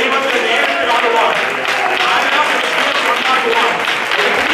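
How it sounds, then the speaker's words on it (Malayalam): A church congregation clapping their hands in worship, a dense continuous wash of many hands filling the hall loudly for the whole stretch. "കൈയടിച്ച് ദൈവത്തെ ആരാധിക്കുവാൻ"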